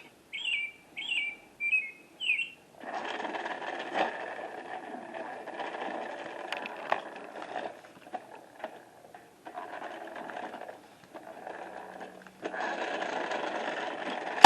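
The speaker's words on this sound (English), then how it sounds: "The bird says," Chirping bird call from a talking toy read-along, four quick tweets in a row at the start, followed by a long mechanical whirring and clattering of the toy's workings.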